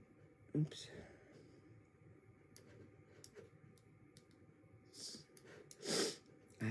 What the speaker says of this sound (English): I had the sniffles, y'all.